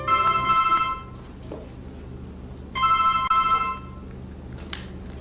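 A telephone rings at night with two loud electronic trilling bursts separated by a quiet gap, over a low steady hum.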